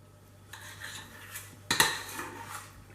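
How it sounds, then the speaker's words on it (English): Minced meat being mixed and bound with bread for meatballs in a bowl: soft scraping handling punctuated by a few clinks of utensil against dish, with one sharper clatter near the middle. "now we can start binding this with our bread"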